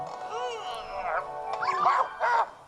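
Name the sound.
ghost dog Polterpup barking in the video game Luigi's Mansion 3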